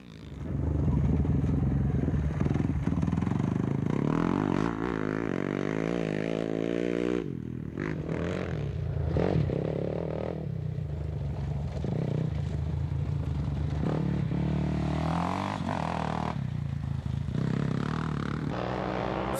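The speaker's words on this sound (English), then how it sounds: "Frenchman Richard Sanct set the pace on his KTM, completing the stage in just over 41 minutes." KTM rally motorcycles race on a stage near Castellón in Spain, the engines loud and revving up and down, with shifting tones and passing roars throughout.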